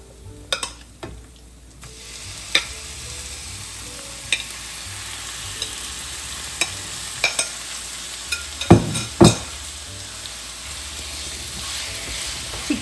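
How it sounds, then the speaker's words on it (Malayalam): Marinated chicken breast pieces go into browned onions frying in a pan. A steady hiss of sizzling oil carries sharp clatters and stirring scrapes, with louder bursts toward the end. "ഇനി നമുക്ക് ഇതിലോട്ട് നമ്മളെ മാരിനേഷൻ ചെയ്ത് വെച്ച ചിക്കന് ഇതിലോട്ട് ആഡ് ചെയ്യാം."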